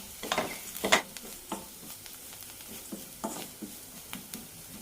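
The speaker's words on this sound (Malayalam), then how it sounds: "നന്നായി മിക്സ് ചെയ്തെടുക്കാം" Spiced masala mixture with garam masala and green chillies stirred in a pan, giving soft scraping and light sizzling in irregular strokes, a few sharper clinks early on, moderately quiet and close.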